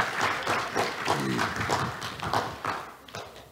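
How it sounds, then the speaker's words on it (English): A church congregation at a first service claps briefly, a lively patter of many hands at moderate distance with uneven bursts, fading slightly toward the end. "First service clap for them, even though they didn't do anything."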